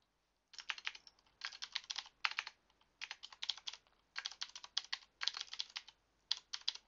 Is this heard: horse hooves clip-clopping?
no